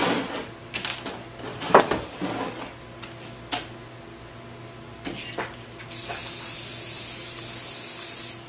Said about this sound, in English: So I'm going to spray a coat of the satin over it.